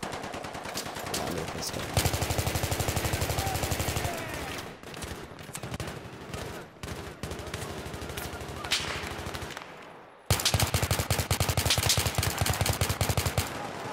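Rapid video game gunfire rattles in dense, sustained automatic bursts, dropping out briefly near the end before resuming loudly, with a voice talking over it.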